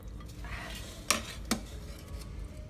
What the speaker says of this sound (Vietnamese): Mình sẽ đổ món thịt vịt vào cái nồi để nấu nóng.